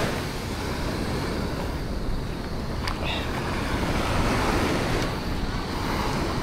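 Strong waves break on the shore at the water's edge where people cast fishing lines. A dense, steady roar of surf and wash fills the whole clip, close and loud, with wind noise over the microphone.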